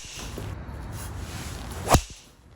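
Ping G430 golf driver strikes a ball, a single sharp crack near the end of a quiet outdoor stretch, with faint ambient noise before and after.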